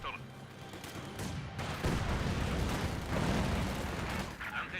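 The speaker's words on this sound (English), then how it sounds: "Mortar firing off one last shot." Mortar fire and battle noise from the strategy video game Company of Heroes 2, a dense sustained rumble of booms and gunfire. A voice talks faintly underneath.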